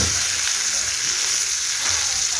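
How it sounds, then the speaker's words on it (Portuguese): A hamburger patty fries steadily in a pan, giving a loud, continuous hiss and crackle close up with no voices. "Tô fritando aqui, ó."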